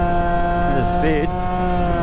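A tuned Yamaha Aerox scooter engine with street tuning revs near top speed, a steady loud harmonic drone that stutters and wavers briefly as it starts to cut out, running lean.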